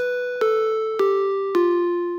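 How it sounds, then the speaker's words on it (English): Soft Bells synth keys patch playing a short melody of three bell-like notes, each struck clearly and left ringing, with no other sound. "I went to Synth Keys, and I used Soft Bells"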